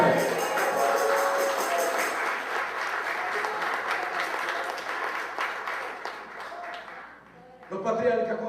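A congregation at an evangelistic church service bursts into loud, sustained applause that slowly thins and fades, then a brief renewed flurry of clapping and voices at the very end.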